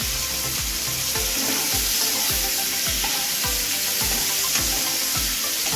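Onions, green chilies and cashews frying lightly in a pan, a steady close sizzle broken by regular scraping bumps of stirring throughout.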